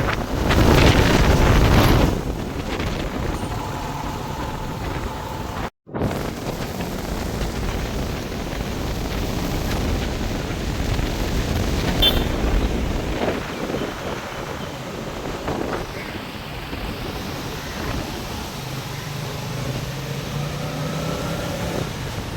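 Stormy sea at Keerimalai beach in Jaffna during a cyclone with pouring rain: strong wind buffets the microphone in loud gusts while rough waves surge and crash continuously, with no voices.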